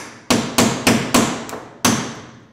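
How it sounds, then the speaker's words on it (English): A standard claw hammer drives a punch through a plastic trim rivet, giving five sharp metallic strikes in a steady rhythm and then a final blow after a short pause, loud and close with ringing decay. "And that is how you punch through a rivet."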